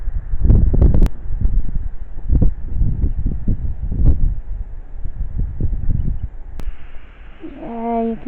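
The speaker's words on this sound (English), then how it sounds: "Yeah, you can hear a lot of the wind now." Wind gusting steadily across the microphone in a churchyard at St Mary's, Clophill, a low rumbling buffet that swells and eases throughout, with a faint tonal hum near the end.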